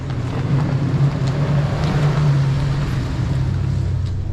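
A Toyota Tundra pickup fitted with Air Lift springs driving along, a steady low engine and road drone with wind rush, no voices.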